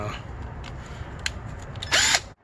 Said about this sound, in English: Basically it's a driver tool, a hex tool, and I put this Phillips screwdriver kind of head on the top